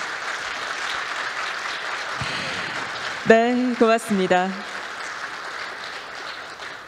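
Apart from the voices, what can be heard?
audience applause at KAIST ceremony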